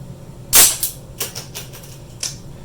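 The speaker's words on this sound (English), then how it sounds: "I'm just going to use a good old pair of scissors." Sharp snipping cuts from a pair of scissors trimming material during a Cheetah 2.0 one-pull kit installation, one loud snip followed by several quieter, irregular cuts close by.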